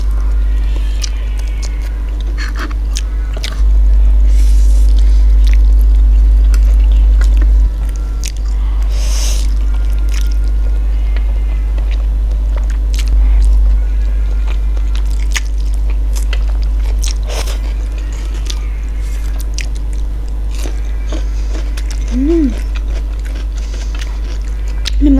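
Crunchy Korean fried chicken coated in a spicy-sweet Korean sauce being bitten and chewed close to the mic, with scattered crisp crunches and squishy mouth sounds over a steady low hum.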